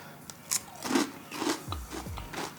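Bites and chewing on spicy, crunchy Korean-style fried chicken on the bone come through as close, crisp crackles and crunches in uneven bursts, with no talking.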